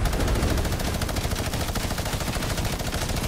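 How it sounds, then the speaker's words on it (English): Minigun firing in the video game Siphon 2.0 during a tank battle, a continuous rapid stream of shots with a fast, even rhythm, loud and close for the whole stretch. "Kinda hate the minigun, but also love it too."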